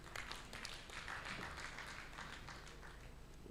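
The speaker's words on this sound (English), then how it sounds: "Let's give her a big hand clap." Audience clapping at a formal signing ceremony, a steady patter of many hands that is faint and distant and holds level throughout.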